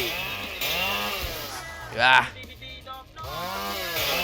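A chainsaw slashing in the Superbox Siege Defense game, heard as buzzing, wavering engine tones with a brief louder burst in the middle, under game effects.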